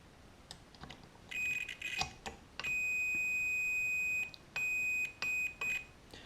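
A multimeter continuity tester beeps on a connector and metal case during repair of a non-working Lafayette TM-16A field strength meter, giving a steady high electronic tone in several bursts of varying length with brief clicks between.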